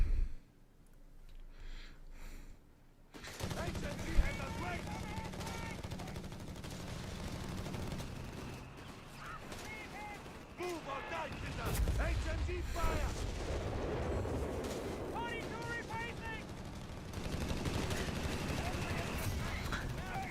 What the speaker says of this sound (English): Mortar vet 1 airburst being used